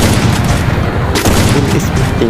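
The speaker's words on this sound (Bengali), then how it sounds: "কীভাবে স্নাইপার চালাইতেছি" Gunfire from a sniper rifle in a mobile shooter video game, loud, continuous booming shots with no gaps, layered over dense game background noise.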